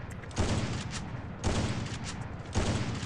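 Three evenly spaced bursts of automatic fire in a 1v1 custom room mobile shooter match, each about a second long, moderately loud and fairly close, with no talk.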